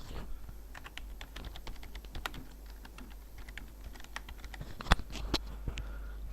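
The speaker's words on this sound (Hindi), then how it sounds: "पूरी टाइपिंग कर लेते हैं पहले हम।" Keystrokes on a computer keyboard while entering resume text in Microsoft Word, a steady run of light clicks with a few sharper, louder taps, alone with no talking.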